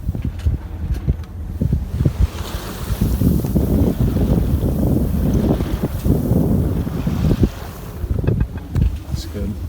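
A boat's engine drones steadily nearby on open water with rushing wind and water noise, loud and continuous throughout.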